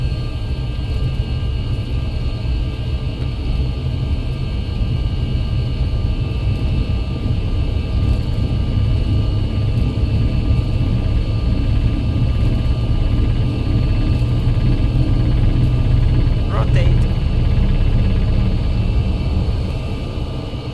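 Airbus A320 jet engines spool at takeoff power in a flight simulator game, a loud, steady roar with a low rumble holding for the full stretch, with a brief whine sweeping through partway.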